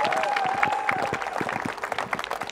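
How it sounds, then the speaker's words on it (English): A rodeo crowd at the Canoe Mountain Big 4 Rodeo in Valemount, BC claps and cheers in a brief burst, with a faint tone and some voices mixed in. "Give them a big round of applause for the snow farmers."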